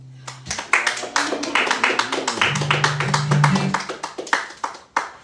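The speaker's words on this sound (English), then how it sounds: "Thank you for the applause." Dense, steady applause from a birthday concert audience right after a lullaby-style song, crisp overlapping claps filling the room for several seconds while a low sustained instrumental tone hums underneath.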